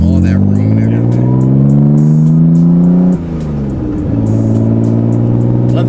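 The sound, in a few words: 1991 Nissan 300ZX twin turbo engine revving, turbos audible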